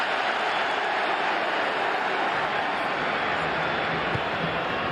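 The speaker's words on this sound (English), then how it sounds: "Listen to the crowd." Continuous roar of a football stadium crowd at a Ligue 1 match between PSG and Marseille, a dense steady wash of distant voices with a broadcast commentator's voice faintly mixed in.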